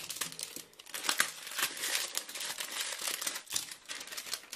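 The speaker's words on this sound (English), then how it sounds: "Just peeling off the plastic." Clear plastic shrink wrap is peeled and torn off a Samsung Galaxy C9 Pro box, close up, in a long run of crinkling and crackling bursts with no talking.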